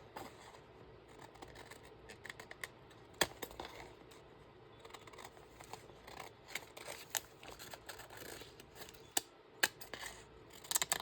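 Scissors trimming craft paper close up, a quiet run of irregular snips and crisp cutting clicks with light paper rustling, no talking.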